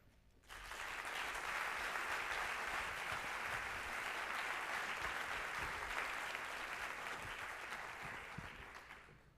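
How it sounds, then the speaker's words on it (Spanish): Steady, dense applause from a large audience at a 2017 gala in Vigo, Spain starts abruptly, holds loud and even for several seconds, then begins to taper at the end. "Damos la bienvenida con un caluroso aplauso a Oriol Sarmiento Díez"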